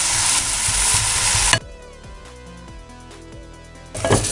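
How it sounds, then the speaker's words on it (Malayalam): Bitter gourd stir-frying on a low flame in a pan, a loud steady sizzle that drops away sharply midway, leaving quieter tonal kitchen hum, then the sizzle swells back briefly at the end. "ഈ പാവയ്ക്ക ഇങ്ങനെ ചെറുതീയിലിരുന്ന് നന്നായിട്ട് മൊരിഞ്ഞു തുടങ്ങും."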